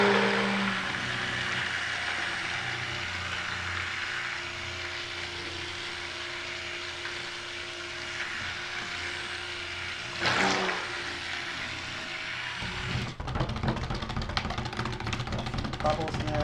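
A blender starts abruptly after a stretch of low hum and churns oat milk and honey cold-process soap batter with a loud, gritty whir near the end, while a person talks.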